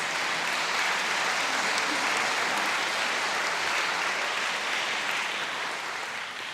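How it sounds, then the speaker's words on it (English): Steady, dense audience applause at a community heritage concert, a large crowd clapping continuously at an even level throughout, with no talking. "Give him a big round of applause."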